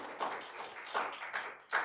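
A church congregation applauds during a Korean-language worship service, sparse hand claps with a few louder bursts at irregular intervals, fairly quiet and alone.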